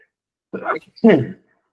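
A single close, fairly loud sneeze from a person during a talk, a short intake followed by a sharp burst, with nothing else around it.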